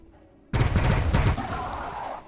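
Loud burst of gunfire from a Warhammer 40000 Battlesector multiplayer match between Adepta Sororitas and Necron, a dense rattling volley about a second long that follows a quiet lead-in and trails off into a sustained rumble.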